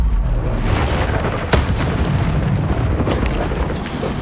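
Incendio fire spell cast in Hogwarts Legacy, a rumbling burst of flame blasts that roar continuously with a sharp crack partway through and a second surge near the end.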